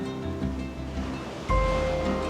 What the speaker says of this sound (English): Quite nice, quite big waves.